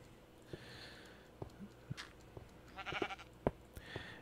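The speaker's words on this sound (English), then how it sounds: "I hear sheep." Sheep in Minecraft bleat a few times at moderate distance, short wavering calls spread across a quiet stretch, mixed with scattered clicks and small game noises and no talk.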